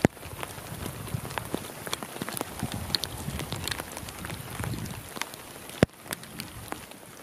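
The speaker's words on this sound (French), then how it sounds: "parce que il pleut fort" Heavy rain pours down outdoors in a dense, steady hiss, with scattered sharper drips and taps landing nearby and one louder knock near the end.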